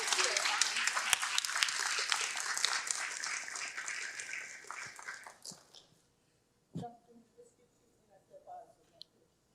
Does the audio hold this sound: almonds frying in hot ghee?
no